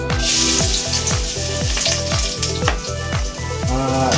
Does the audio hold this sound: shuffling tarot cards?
no